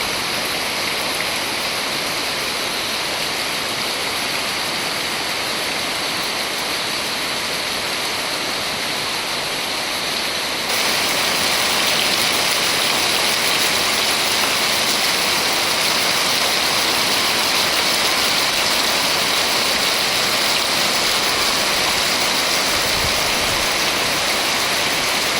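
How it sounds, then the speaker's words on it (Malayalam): Steady heavy rain pours down in Kerala, a dense continuous hiss that grows louder partway through and runs without a break, with no voices over it. "മഴ"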